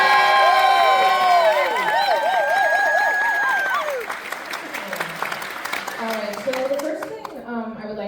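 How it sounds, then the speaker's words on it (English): An audience at a Q&A event applauds and cheers for a guest, a dense burst of clapping with whoops and whistles that fades as talk begins underneath. "Let's give him another round of applause"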